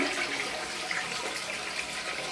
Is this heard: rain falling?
no